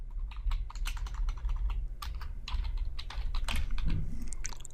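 Rapid, close clatter of keystrokes on a computer keyboard as a PostgreSQL database query is typed, irregular bursts of clicks over a quiet room hum, with no talk.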